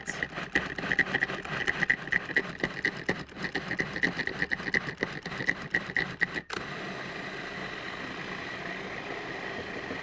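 A blender in a raw-food kitchen whirs in rapid stuttering pulses for several seconds, then cuts off abruptly, leaving only a quiet steady room hum.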